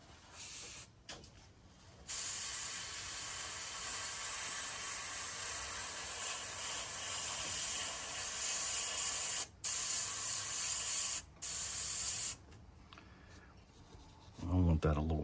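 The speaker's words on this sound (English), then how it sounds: "I'm spraying on about 18 pounds of pressure." Airbrush spraying paint at about 18 pounds of pressure onto a fishing lure through a stencil, a close, steady hiss held in long bursts with brief pauses between them.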